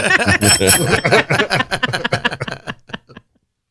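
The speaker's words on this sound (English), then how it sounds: "Ring the bell!" A small bell dings briefly near the start, partly buried under loud, excited talking that trails off.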